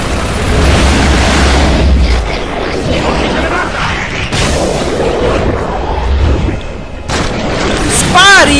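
Heavy gunfire and booming blasts from an Xbox 360 Gears of War 2 battle, with dense rattling shots and explosions running loud throughout, ending in a sharp burst.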